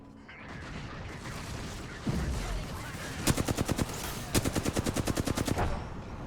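Automatic gunfire in the battle royale video game Apex Legends, with two rapid bursts of evenly spaced shots following a louder thump, set against a steady game background.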